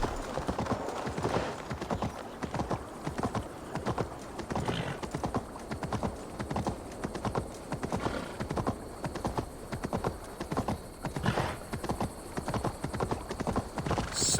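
Horse hooves gallop in Assassin's Creed Valhalla, a rapid, steady clip-clop rhythm running throughout, with occasional neighs and whinnies over busy game ambience.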